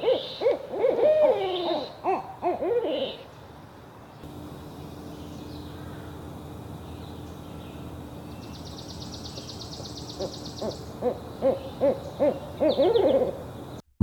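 An owl in a wild forest hoots in short repeated calls, clear and fairly close, opening and closing a stretch of quieter night ambience with faint distant bird calls.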